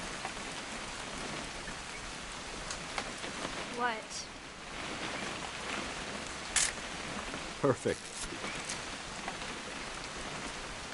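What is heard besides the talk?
rain in the video game What Remains of Edith Finch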